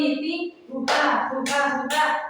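A class performs the rhythmic 'tepuk semangat' cheer clap, three loud sharp bursts of clapping after a short stretch of voice.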